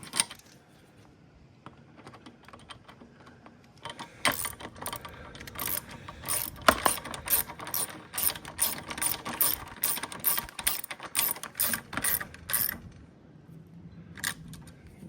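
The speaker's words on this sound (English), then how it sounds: "I grab a little socket and a screwdriver so I can start tightening this thing down here" A socket ratchet clicks rapidly while tightening parts on a Ryobi 2500 PSI electric pressure washer, starting with scattered handling noises and then running in long bursts of close, crisp pawl clicks, with no voices.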